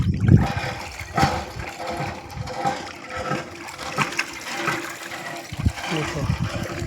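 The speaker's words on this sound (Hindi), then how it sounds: "देखो शिवानी कपड़ा धोवा पानी खाली कर दी।" Laundry wash water is emptied out from a washing tub, rushing and splashing with gurgling surges throughout, moderately loud and close, with faint background voices.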